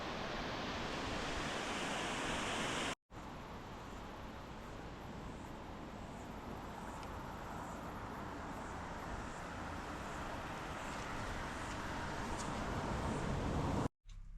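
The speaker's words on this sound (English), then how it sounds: "we found this Thunder Creek waterfall, which is huge." Huge Thunder Creek waterfall in New Zealand pours with a steady, dense roar heard close by, continuous broadband rushing water with no voices.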